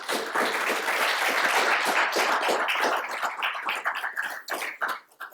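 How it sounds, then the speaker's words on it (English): A symposium audience applauds, dense clapping that stays full for a few seconds, then thins into scattered claps as it fades out. "Could we give all of those a round of applause?"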